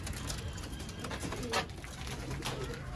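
Golden kamagar pigeons in a Sialkot loft coo softly and continuously against a low, steady background murmur, with one slightly louder burst near the middle.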